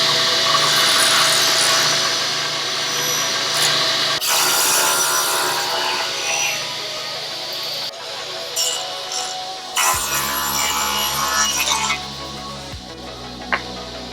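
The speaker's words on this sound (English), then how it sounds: "And then he took it to the table saw to cut them down to size." A table saw cuts wood boards to size with a loud, sustained whine and grinding rasp, and the tone shifts as each cut starts and ends, including a deeper motor hum partway through.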